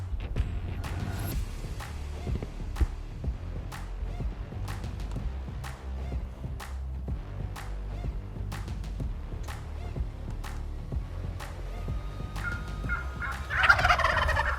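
A wild turkey tom gobbles during a bow hunt, heard as a low, steady rumble of gobbling and fluttering with sharp regular clicks throughout, fairly close and without speech.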